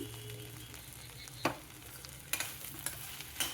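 Okra stir-fried uncovered in a pan, a steady close sizzle with a low hum underneath and a few sharp scrapes and clicks of the spatula at irregular moments.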